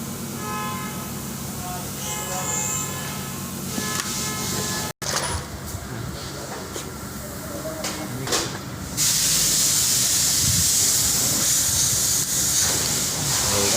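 Oil heating in a pan for a Thai omelette during a home-cooked lunch: muffled rustling and clatter, then a loud, steady hiss that starts abruptly and holds close and constant to the end.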